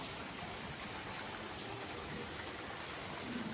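Rain falls steadily outdoors in rural Bangladesh as a faint, even hiss that stays unchanged throughout, with no voices.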